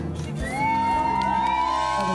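Guests at a rustic-style wedding cheer and whoop together, a loud burst of crowd voices with rising shouted tones that holds steady to the end.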